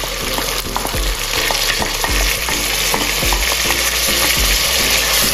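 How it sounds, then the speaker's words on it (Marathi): Chopped onion and tomato fry in oil, giving a continuous loud sizzle broken by regular scraping and stirring knocks of a utensil against the pan, with no voices. "आपला कांदा टोमॅटो शिजतोय ना, तेलात फ्राय होतोय ना"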